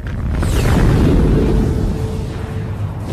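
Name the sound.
supernova star explosion sound effect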